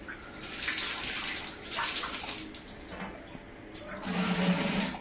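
Water running from a tap for a bath in a home bathroom, a soft, uneven splashing and gushing that swells and eases over a few seconds, fairly quiet and close.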